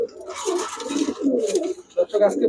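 Pigeons cooing close by at a pigeon sale, soft throaty warbling calls repeating in a cluster with short pauses.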